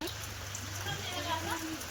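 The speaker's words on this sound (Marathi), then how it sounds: "आणि पाऊस यायला लागलाय" Steady rain patters down with a soft, even hiss across the whole stretch, close by and fairly constant, with a low hum running underneath.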